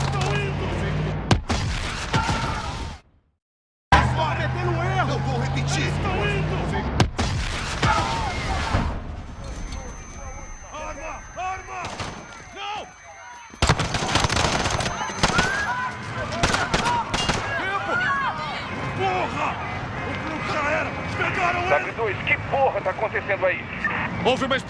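Gunfire and explosions in Call of Duty Modern Warfare during an attack at London's Piccadilly Circus: loud bursts of automatic fire and blasts, with a sudden brief silence, heavy under shouted dialogue.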